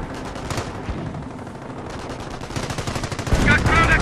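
Gunfire and machine-gun bursts in Company of Heroes during the Carentan counterattack, with rapid staccato rattles and sharp shots layered with battle noise and game voice chatter.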